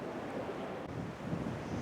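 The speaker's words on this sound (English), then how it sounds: "busy with the water coming down from the river" River water pours down into Trevaunance Cove at St Agnes, a steady broad rushing wash with wind buffeting the microphone, continuous and fairly distant-sounding, no voices.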